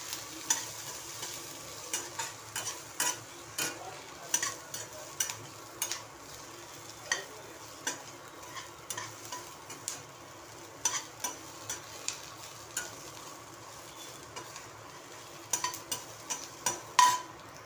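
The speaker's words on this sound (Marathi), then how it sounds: "आता हे त्याच्यामध्ये खोबरं भाजून घेते" Grated coconut and onion roast in a pan, a faint steady sizzle under a long series of close, sharp spatula scrapes and taps that repeat irregularly throughout.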